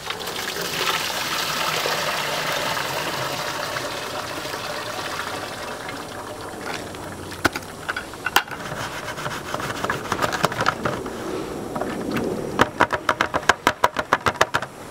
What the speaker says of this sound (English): Next, you're going to pour that mixture through the strainer a little bit at a time.